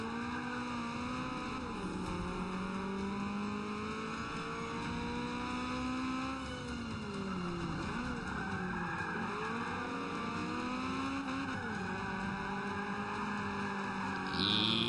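Race car in Forza Motorsport 5, with a continuous high engine whine and gear-shift pitch swoops under the steady roar of game audio, plus occasional tire squeal near the end.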